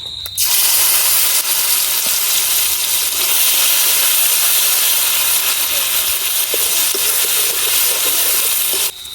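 Onion paste dropped into hot oil left over from frying rohu fish, giving a loud, close, continuous hissing sizzle that starts abruptly and holds steady for several seconds before cutting off.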